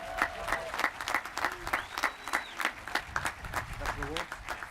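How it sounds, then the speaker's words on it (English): Audience applause for Mr. Lee at an upper school commencement ceremony: steady, dense clapping throughout, with scattered voices and a whistle-like tone mixed in. "One more round of applause for Mr. Lee"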